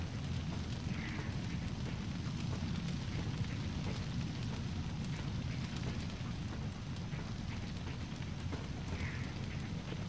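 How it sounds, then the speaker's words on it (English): A steady roaring crackle of fire burning in Tomb Raider: Angel of Darkness, deep and continuous throughout with a broad rumbling low end, loud and unbroken with no talk. "I don't want to jump over the fire and get set alight"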